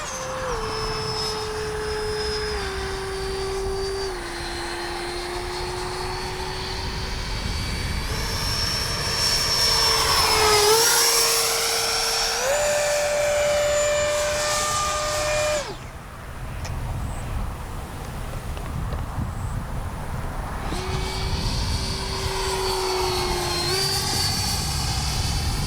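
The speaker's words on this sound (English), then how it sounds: "Great flying sport jet." An H-King Flycat V2 RC sport jet flies overhead with a continuous whining electric ducted-fan roar that shifts pitch as it throttles up and down and passes by, loud and steady throughout.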